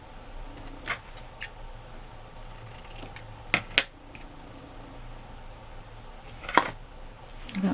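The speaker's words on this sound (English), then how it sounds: "The only ones I could reach were the pinking shears." Pinking shears snip through fabric in a few sharp, separate cuts against a quiet room hum, close and brief, with no one speaking.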